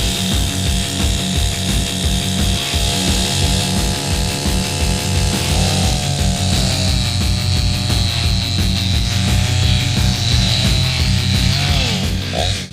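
A buzzing chainsaw in a video game drones continuously at high volume while cutting ice, its pitch wavering as it cuts, with a steady pulsing rattle underneath.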